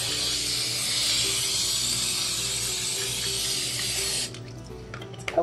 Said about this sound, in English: first we're gonna spray the sucker down with some cooking spray